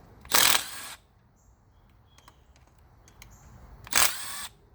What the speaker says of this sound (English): For taking off covers, I love this impact gun